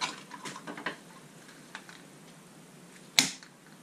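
On a 2022 Ford Bronco, a roof rail snaps into place with one sharp, close click, preceded by faint light ticks and rattles against quiet background.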